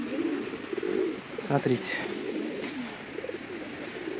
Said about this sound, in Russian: Голодные птицы тут.